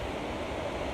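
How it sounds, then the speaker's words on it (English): Wind blowing outdoors, a steady broadband rushing roar buffeting a microphone, continuous and fairly loud for a moment with no speech. "Pardon the wind"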